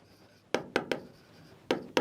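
Chalk or marker strokes on a board in a physics class, five sharp tapping scratches in an uneven rhythm, close and clear with no talk over them.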